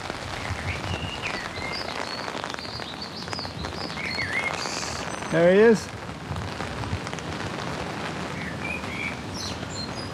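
Steady rain patters down on an English front garden throughout, with a few faint bird chirps and a brief spoken remark partway through.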